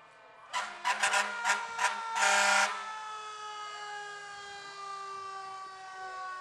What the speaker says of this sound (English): There's the Hudson ladder truck you can hear in the background